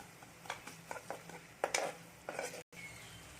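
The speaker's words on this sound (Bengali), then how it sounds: "এবার পেঁয়াজ আর লঙ্কা জিরেটাকে একটু হালকা ভেজে নিচ্ছি" Onion, green chili and cumin lightly frying in a pan, with soft sizzling under repeated scrapes and taps of a spatula stirring the pan, close and fairly quiet, broken by a brief cut near the end.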